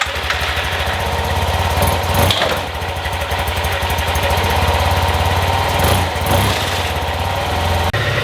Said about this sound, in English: Okay, the Tmax is starting. It is running.